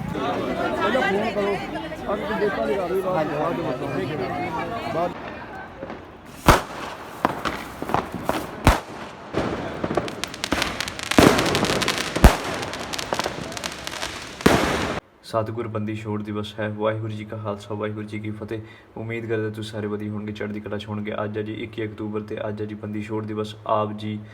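Firecrackers and fireworks burst during a Bandi Chhor Divas celebration at Anandpur Sahib, heard as a rapid run of sharp, loud bangs and crackles in the middle, with crowd chatter before and music afterward.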